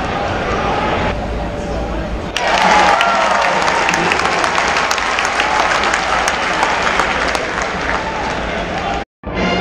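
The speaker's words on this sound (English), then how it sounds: "Austin Wiley enters the game to applause." A basketball crowd applauds as Auburn's Austin Wiley enters the game against Mercer, a loud, dense wash of clapping and cheering filling the arena, with voices mixed in and a brief dropout near the end.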